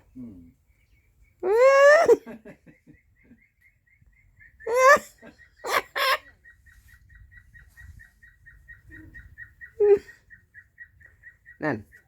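Large farmyard ducks give several loud nasal quacks in short separate bursts, with a faint repeating chirp and some talk in between.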